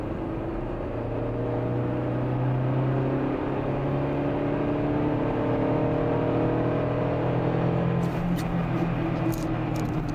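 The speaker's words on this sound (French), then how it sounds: "Par exemple, je vais me mettre en 3e à 50 km/h," A car with a 1.6 litre engine pulls hard at full throttle in third gear from about 50 km/h, its steady engine drone rising smoothly and loudly throughout with no speech, a few faint clicks near the end.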